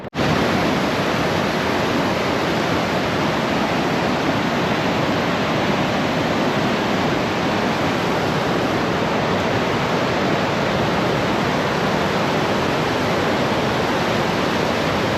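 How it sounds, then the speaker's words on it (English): LeHardy Rapids on the Yellowstone River, a loud, steady roar of rushing whitewater close by, filling the whole stretch without pause or voices. "we're at our next stop. The Lee Hardy Rapids"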